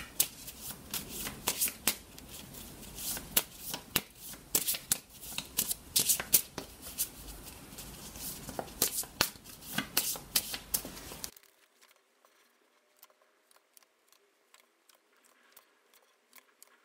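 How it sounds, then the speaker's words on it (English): A deck of Russian Gypsy fortune-telling cards is shuffled close up in dense, crisp riffling bursts for about eleven seconds, then only faint scattered ticks remain. "we're going to give the cards a quick shuffle"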